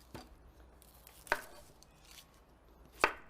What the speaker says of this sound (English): so I just cut the onions in half